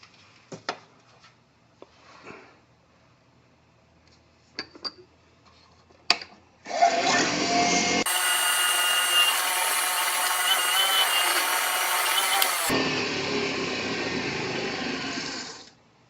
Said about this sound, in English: we're going to go ahead and proceed with drilling that part out first.